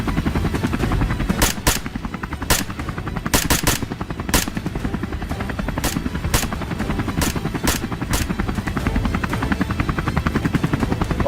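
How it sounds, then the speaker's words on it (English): A helicopter flies over a boar hunt with a loud, continuous rotor thrum, punctuated by sharp bursts of gunfire throughout. "the sound of the helicopter sent the boars into a wild frenzy, creating complete chaos below"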